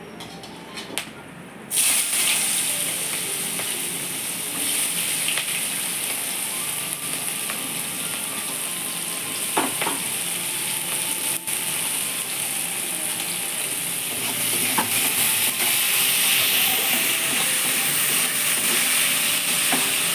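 Steady sizzling of onions frying in hot oil with bay leaves and whole garam masala, continuous broadband hiss with occasional faint clicks and pops, close by, no talking.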